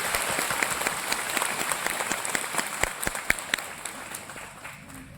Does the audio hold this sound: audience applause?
yes